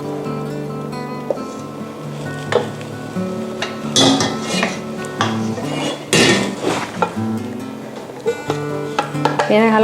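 Metal kitchenware clanks and scrapes under a steady background hum, with a few sharp knocks and pressing squeaks as Thai salim dessert dough is forced through a metal press.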